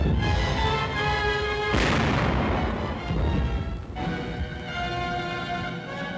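Tank guns firing in World War II combat footage: a continuous heavy rumble of artillery with a loud blast near the middle and another boom a couple of seconds later, alone without talk.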